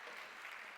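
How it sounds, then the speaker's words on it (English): A brief, steady wash of audience applause at a women's leadership conference, fairly distant and uniform with no breaks. "let's give another round of applause to those incredible artists"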